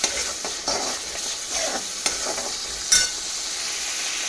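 Masala roasting in oil in a pan sizzles softly and steadily while a spoon scrapes and stirs it in several distinct strokes, each producing a brief louder clatter.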